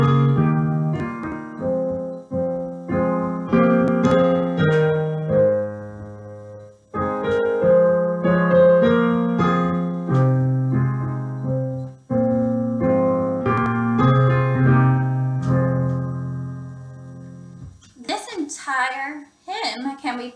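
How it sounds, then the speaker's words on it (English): A keyboard plays the hymn tune Morning Song as a clear sequence of sustained chordal phrases with short pauses between them, close and moderately loud, before a voice begins speaking near the end. "This is the tune Morning Song,"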